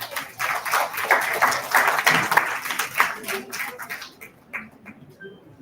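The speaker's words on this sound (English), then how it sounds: "A big round of applause for Dr." Applause from a physiotherapy conference audience for a keynote speaker, a dense stretch of clapping that holds steady for about four seconds and then thins out to a few scattered claps.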